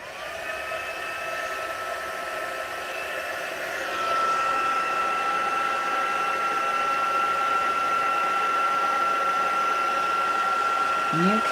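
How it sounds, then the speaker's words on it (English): A steady blowing whir with a tonal hum that steps up louder partway through and then holds, like a heat gun running close by. "use your heat gun straight onto it"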